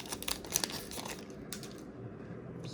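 A 1991 Topps Stadium Club card pack wrapper is torn open, producing close crinkling and crackling plastic sounds. Sharp tearing bursts come early, then a softer rustle fades out.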